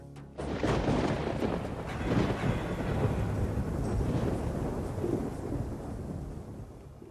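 A thunder sound effect after a lightning flash: a sudden heavy rumbling crash that rolls and swells loudly for several seconds, then slowly fades, with no voices.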